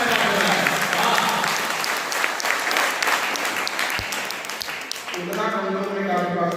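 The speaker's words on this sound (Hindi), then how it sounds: "एक बार जोरदार तालियां आप सब बजा दीजिए।" An audience at a Hindi poetry gathering for Atal Jayanti, held at a school, gives loud, sustained applause that fills the whole stretch. A voice comes in over the clapping near the end.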